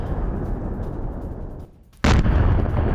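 Heavy booms and blasts play over war footage of destroyed tanks, including German Leopard tanks and Ukrainian military vehicles. A sustained loud rumble drops briefly, then a sharp, powerful burst returns with continued roaring.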